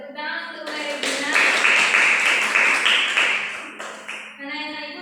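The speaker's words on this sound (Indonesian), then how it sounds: "tepuk tangan untuk Regina." Applause from a primary school classroom breaks out between stretches of a voice, a dense wash of clapping that swells for a few seconds, dips, then fades as talking resumes.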